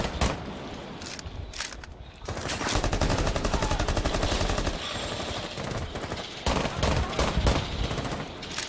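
Sustained automatic gunfire from a Rainbow Six Siege Terrorist Hunt match, dense bursts rattling almost continuously with a brief lull, loud and close, with voices talking faintly underneath.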